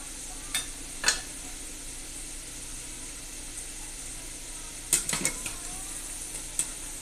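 Sweet onions soften over heat in a pan with a faint, steady sizzle, broken by a few sharp scrapes and clinks as a utensil stirs them against the metal.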